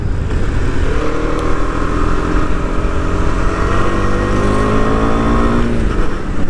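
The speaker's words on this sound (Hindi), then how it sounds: "I mean, you will just love riding this motorcycle." A Husqvarna Svartpilen 250 motorcycle engine pulls steadily under acceleration, a loud, continuous rising drone with climbing engine tones throughout, no speech over it.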